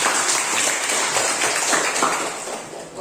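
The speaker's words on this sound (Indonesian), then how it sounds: "Saya minta tepuk tangan untuk Bapak." A classroom audience applauds a teacher, a dense, steady patter of many hands clapping together for about three seconds before easing off slightly at the end.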